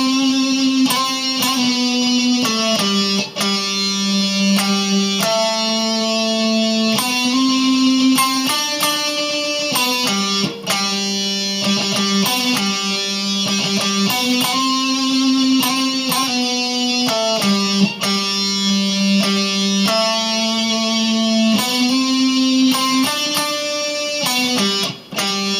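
An electric guitar plays a riff, a sustained, close and loud passage of repeating picked notes and chord shapes with no talking.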